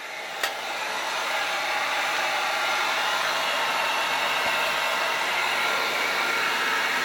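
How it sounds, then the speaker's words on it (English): A heat gun blows steadily while warming a candle mould, a loud, even rushing whoosh held close throughout, with one faint click near the start. "I'm going to start to warm up this second mould. I'm not going to have my heat gun so close this time."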